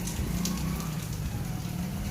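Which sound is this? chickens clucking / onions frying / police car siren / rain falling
rain falling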